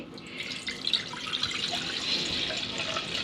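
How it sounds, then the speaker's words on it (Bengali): Peanut whey streams steadily into a container, a soft, continuous trickle of liquid close by, fairly quiet, with no voices. "আমি একটা পাত্রে এটা ঢেলে নিচ্ছি"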